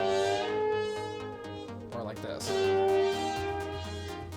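Sustained plucked notes from a Jamstik Studio MIDI guitar without MPE glide up and down together in pitch over a steady low backing, with a brief spoken phrase in the middle.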